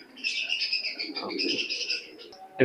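Teddy pigeon in a loft giving soft chirpy calls and coos, close and fairly quiet, ending in a brief louder rustle or knock.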